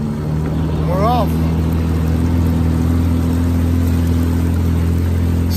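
The small outboard motor on a homemade jon boat drones steadily after being put in gear, a close, continuous mid-pitched hum, with a brief voice near the start.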